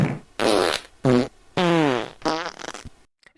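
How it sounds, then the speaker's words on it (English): A string of loud, close fart sound effects, several blasts of varying length with short gaps, some buzzing and rippling, ending in a few sputtering bursts before silence. "I'm gonna put in a bunch of fart noises here"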